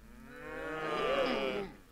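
A single drawn-out, fairly faint moo from an ox swells and fades over about two seconds, heard alone.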